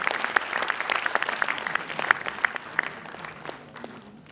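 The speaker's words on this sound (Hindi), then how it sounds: "अनुरोध है कि आप उनका स्वागत तालियों की गूंज से करें।" Sustained audience applause greets a lecturer at a memorial lecture, with many sharp individual claps standing out above a dense patter of hands. The applause is moderately loud and tapers slightly toward the end.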